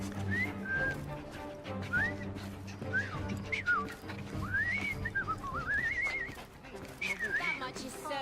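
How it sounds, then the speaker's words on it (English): A man whistles a wandering, sliding tune in a Victorian London cutscene from Assassin's Creed Syndicate, clear and close over a steady musical or ambient bed, with bright rising and falling phrases repeating across several seconds. "I've just learned to whistle."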